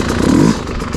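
Enduro motorcycle rear wheel spinning on a tree root during hard enduro riding, a brief loud engine rev with scraping clatter, close to the microphone, with no talk.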